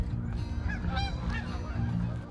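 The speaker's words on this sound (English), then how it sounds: "Got some Canadian geese going up above." Canada geese honk repeatedly as they fly overhead under open blue skies in springtime, a cluster of overlapping calls at moderate distance over steady outdoor background noise.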